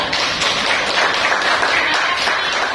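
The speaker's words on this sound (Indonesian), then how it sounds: "Kita berikan aplaus untuk kelompok 2." A group of people gives applause in a classroom session, steady continuous clapping from many hands lasting throughout, fairly loud and close.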